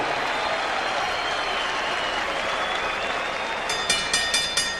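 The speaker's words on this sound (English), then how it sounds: "ladies and gentlemen, a round of applause and a wish for speedy recovery to the Paz." Sustained applause from an arena crowd at a boxing event, a dense steady wash of clapping and cheering, with a few sharp louder bursts near the end.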